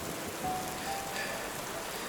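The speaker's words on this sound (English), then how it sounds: "as the rain intensified" Steady rain falling and spattering on surfaces, a dense even hiss without breaks, moderately loud and close, with no voices.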